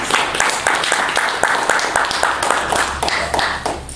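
An audience at a conference applauds, a dense spread of many hands clapping at steady strength for several seconds, with a low hum underneath.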